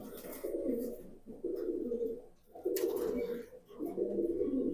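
Jabra pankhi pigeons coo close by in a series of four rolling, throaty phrases separated by short pauses, fairly soft and alone apart from faint background noise.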